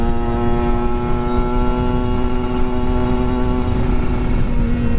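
A Kawasaki Ninja RR 150 motorcycle engine roars loudly and steadily at high revs up close, a continuous buzzing two-stroke drone with no pause and no talk.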